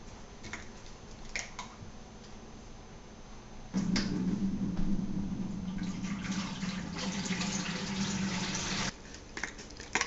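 Apple wine must poured into a fermenter, a steady splashing pour that starts abruptly, runs for about five seconds and then stops, with faint drips and handling noises before and after.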